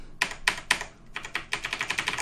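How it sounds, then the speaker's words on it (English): Quick bursts of keystrokes on a mechanical computer keyboard, a few separate clacks and then a faster run of typing, close and crisp with no talking. "Here we have a mechanical keyboard."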